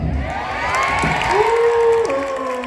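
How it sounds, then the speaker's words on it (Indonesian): A crowd at a Betawi celebration event at a Jakarta high school claps and cheers, a lively mix of clapping and shouts, with a voice calling out over it. "Mantap tepuk tangannya."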